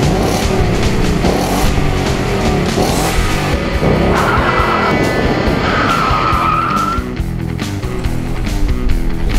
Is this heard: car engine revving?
yes